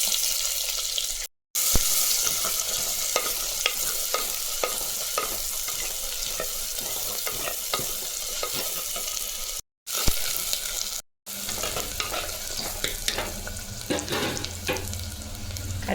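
Onions frying in hot oil with popped mustard seeds for a brinjal, drumstick and raw mango sambar: a steady, close crackling sizzle with scraping stirs and small pops throughout, briefly cut by a few short silences, with no talking.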